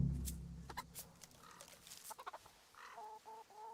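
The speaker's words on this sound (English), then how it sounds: "Here, chickie, chickie, chickie. Here you are, girls." Chickens clucking in the medieval game Kingdom Come: Deliverance, a cluster of short clucks and calls over a low ambient bed, with a few brief tonal chirps near the end.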